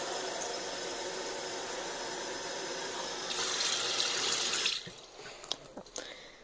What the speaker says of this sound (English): So I'll turn on my faucet